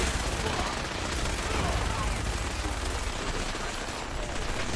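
A minigun in the video game Fallout 4 firing a continuous, dense roar of rapid shots that stays loud and unbroken throughout.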